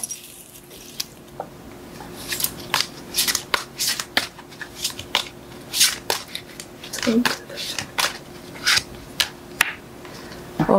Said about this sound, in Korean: 그럼 여러분들을 위한 조언 카드 뽑아볼게요.